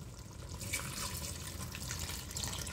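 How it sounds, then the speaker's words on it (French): Water pouring steadily into a peanut sauce cooking with oxtail and aubergines, a continuous close splashing trickle lasting a few seconds with no talk. "Je vais mettre un peu d'eau."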